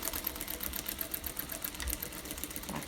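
A sewing machine stitches elastic onto a homemade fabric face mask, its rapid even needle clatter running continuously at close range, with faint talk in the background.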